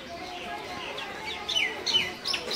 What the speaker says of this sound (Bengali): আর এই যে আমার অস্ট্রেলিয়া বড় মুরগাটা